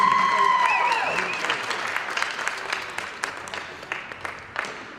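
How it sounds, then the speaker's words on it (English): Crowd at a youth ice hockey championship game in Las Vegas applauding both teams, clapping that starts under a fading tone and trails off into scattered, sparser claps. "let's give both of these teams a big round of applause for their performances this weekend"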